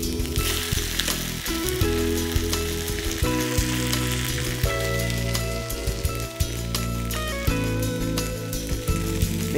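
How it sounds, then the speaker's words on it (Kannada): A veg omelette fries in a pan with a loud, continuous sizzle and occasional crackles, close and steady with no talk over it. "ವೆಜ್ ಆಮ್ಲೆಟ್ ರೆಡಿ ಆಗ್ತಾ ಇದೆ."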